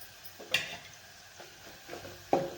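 Garlic browned in oil with garam masala spices added in a pan for masala spinach, a soft continuous sizzle broken by a few sharp scraping stirs of a utensil, close by.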